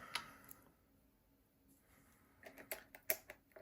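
Keys with Keymacs keycaps being typed on, a handful of sparse soft clicks at first, then a quicker cluster of sharper taps near the end, quiet and close.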